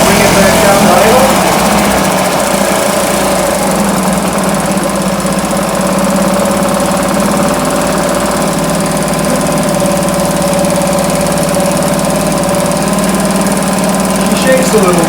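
A 1971 Johnson Mate 2 hp outboard motor, freshly given a carburetor cleaning after stalling at wide-open throttle, runs loudly and steadily up close with a continuous buzzing drone and no break.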